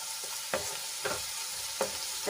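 Spices sauté in a hot pan for a gravy, giving a steady sizzle with a few soft stirring scrapes at intervals.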